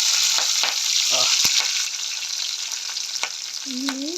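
Garlic and mustard seeds fry in hot oil with a steady, close sizzle, while a few spoon stirs and clinks break through and a short tonal squeak rises near the end.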